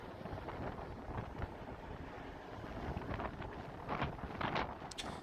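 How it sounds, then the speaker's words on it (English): Wind buffets the microphone on the open deck 11 of the Carnival Miracle cruise ship at sea, a constant low rumbling roar with faint gusting swells and no voices. "Yeah, it gets pretty windy."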